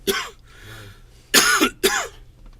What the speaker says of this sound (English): I'm just coughing from my last one.